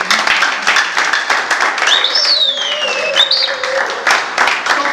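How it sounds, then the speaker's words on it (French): Dense applause from a crowd, loud and continuous, with a whistle-like tone rising and falling briefly in the middle. "vous pouvez aussi, encore une fois, applaudir très très fort"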